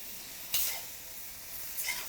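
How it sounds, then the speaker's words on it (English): Wild mushrooms cooking down in a stir-fry pan make a soft, steady sizzle, with two brief, brighter bursts as the pan is stirred. "Look at these mushrooms cooking down."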